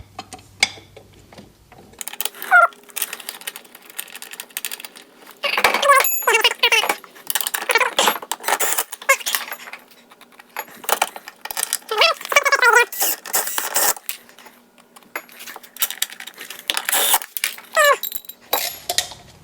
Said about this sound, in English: Last bolt going on for the steering. All lock nuts, so we don't need any Loctite.